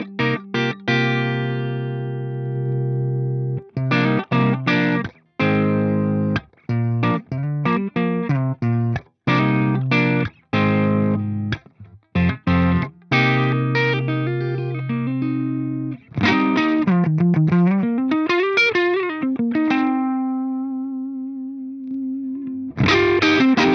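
An electric guitar played through an Axe-Fx III in its Triaxis clean mode rings out in picked notes and chords with short gaps, ending in a held note, clear and alone with no talking.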